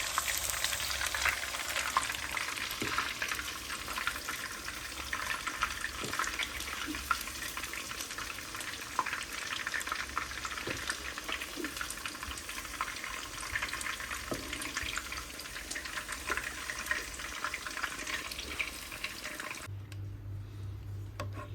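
Chicken frying in a pan of oil for black pepper chicken, a steady dense hiss and crackle running on without break, fairly loud and close, then dropping away near the end.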